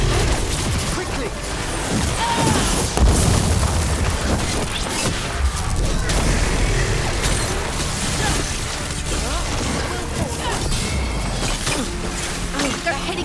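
Continuous video game combat noise with gunfire, booms and crashes striking the party, dense and loud throughout with no clear break, and voices speaking under the din.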